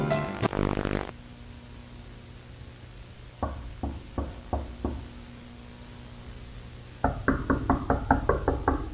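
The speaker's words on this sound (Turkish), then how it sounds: "Kapıyı çalana cevap verme." Knocking on a cabin door, heard as two bursts of sharp, firm knocks separated by a quiet pause, with a short heavy thud at the start and a faster, louder run of knocks at the end.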